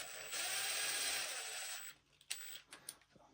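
A hand ratchet snugs up wheel bolts on a work truck during an axle rebuild in a shop, giving a sustained close clicking whir followed by a few separate sharp clicks and knocks.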